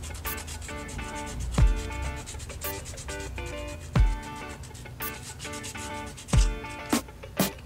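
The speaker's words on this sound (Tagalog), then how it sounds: "Lilihahin ng konti para matanggal yung dumi." Sandpaper is rubbed back and forth across a drum brake shoe from a Honda Wave 100 motorcycle, making repeated rasping strokes up close with occasional sharp knocks, and no one speaks.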